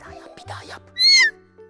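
A child imitates a cat with one loud, high, drawn-out meow. Faint vocal sounds come just before it.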